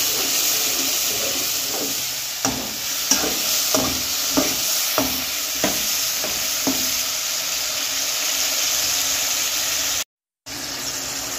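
Potatoes and peas fry and sizzle in a pan, with a steady hiss broken by a run of sharp scraping stirs in the middle, then a brief dropout near the end; no one speaks.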